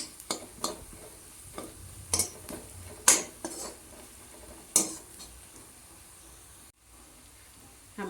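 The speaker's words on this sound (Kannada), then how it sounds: "ಆಮೇಲೆ ಅಚ್ಚ ಖಾರದ ಪುಡಿ, ಅರಿಶಿಣ ಚೆನ್ನಾಗಿ ಕಲಿಸ್ಕೋಬೇಕು ಇದನ್ನು." Chili powder and turmeric being stirred into frying soya chunks in a pan, with a spoon scraping and clinking against the pan in several sharp strokes over a low, steady sizzle. No one speaks.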